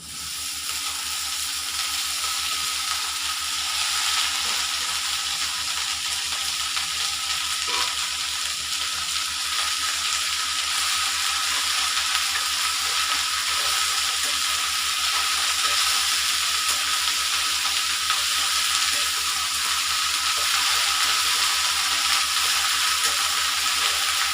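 Drumstick (moringa) leaves sizzle and fry steadily in a pan with turmeric and green chilli, a loud continuous crackle that holds unbroken throughout without any voices.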